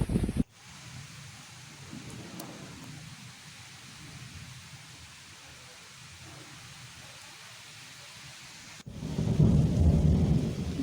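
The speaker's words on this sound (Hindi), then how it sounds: "इतनी तेज़ हवा, बारिश, बिजली कड़क रहा है, बहुत ज़्यादा लग रहा था बादल फट के नीचे आ जाएगा।" Heavy rain pours steadily during a night thunderstorm with strong wind, opening and closing with loud, close rumbles of thunder.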